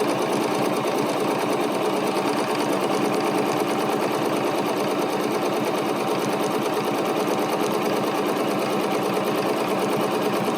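A BERNINA sewing machine quilting with a walking foot runs steadily at speed, a close, even, continuous mechanical stitching buzz with no talk.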